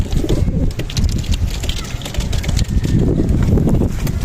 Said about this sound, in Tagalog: si mga kalapatids, si Lucy, si Leader